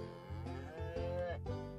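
A cow in the farming video game Harvest Life gives one long, loud, sustained moo, clear and close with no talk over it.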